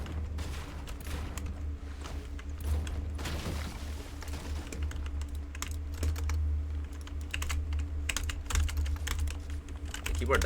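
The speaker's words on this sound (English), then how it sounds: "Keyboard does sound better." A gamer types on a computer keyboard in rapid, uneven bursts of clicking keys over a low steady hum, with sharp clacks crowding together toward the end.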